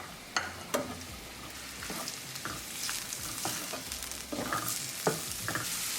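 Onions frying in a pan for tinda paneer sabzi hiss quietly and steadily while a spatula taps and scrapes now and then, with no talking.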